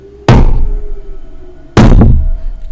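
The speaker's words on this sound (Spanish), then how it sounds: "se escuchó el estruendo en la puerta de enfrente de su cuarto. El golpe fue ensordecedor." Two heavy, loud bangs on a door about a second and a half apart, each a sharp impact with a short booming decay, in an otherwise quiet room with no voices.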